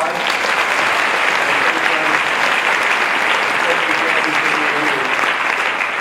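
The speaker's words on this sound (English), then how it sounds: "let's give them a round of applause" Audience applause at an evening stage event, a dense, steady clapping from a crowd that holds at an even loudness for the whole stretch without a break.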